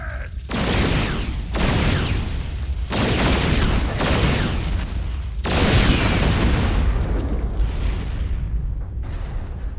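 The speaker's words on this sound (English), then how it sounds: "It can actually fire on the move, and it uses its powerful railguns to batter through the Thor's thick armor" Terran siege tank railguns in StarCraft II pounding a Thor's heavy armor, heard as a series of loud, broad booming blasts in quick succession, about five heavy impacts close together.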